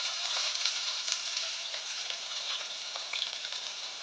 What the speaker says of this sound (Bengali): এই পেঁয়াজ গুলোকে আমি প্রথম কি করব বলতো, ভেজে নেবো